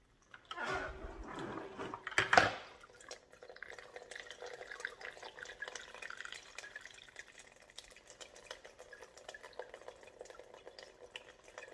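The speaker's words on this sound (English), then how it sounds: "We'll dump all the water, excess water out." Excess water poured out of a rock tumbler barrel holding a mixed batch of stones, a short splashing gush near the start followed by faint drips and trickles.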